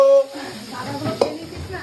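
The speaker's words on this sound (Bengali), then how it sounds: "মাছ ভাজছে একদম কচি করে" Pieces of katla fish fry in a pan: close sizzling and spattering oil with a quick stir and a light clink of a utensil, over a faint voice.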